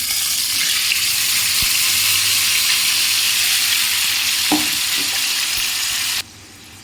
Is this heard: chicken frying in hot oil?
yes